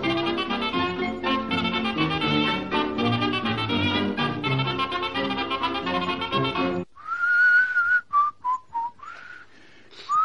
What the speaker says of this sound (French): t'as fini de siffler.